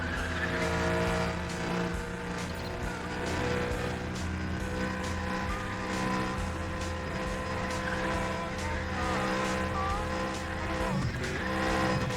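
In Need for Speed The Run, a four-wheel-drive car drifts with continuous engine roar and squealing tires, loud and sustained throughout, with faint game sounds layered underneath.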